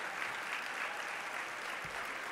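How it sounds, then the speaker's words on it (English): Gala audience at a colorectal cancer research foundation event applauding the sponsors, a dense, even wash of clapping from a large crowd throughout, fairly loud and sustained. "Please give a round of applause for all of tonight's amazing event sponsors"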